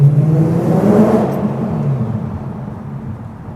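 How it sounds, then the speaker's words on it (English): A BMW E92 M3 engine revs up loud and close, a throaty rising roar that peaks within the first second or so and then settles into a fading rumble. "how could you ever get tired of that sound? It's just like such a good sounding BMW."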